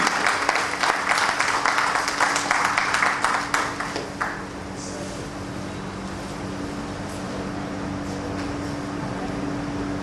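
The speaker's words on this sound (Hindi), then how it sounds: "जोरदार तालियों में कमी न रहनी पाए।" Applause at a Baroda corporate training event for a company director's welcome, dense clapping for about four seconds that then fades to room hum with a few scattered claps.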